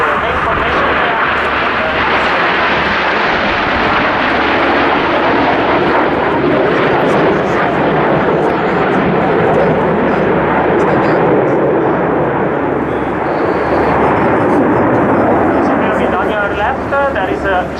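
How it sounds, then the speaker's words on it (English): A continuous loud roar of Italian Air Force Frecce Tricolori jets at an airshow aerobatic display, sustained and rumbling throughout, with a commentator's voice talking over it. "There is just one plane, the solist that is on your right, diving in the sky now"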